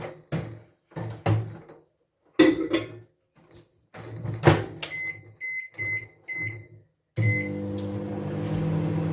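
A microwave oven used to warm milk and melt butter in a jug: several clunks and door thumps with beeps, then the oven starts up with a steady loud hum, close by.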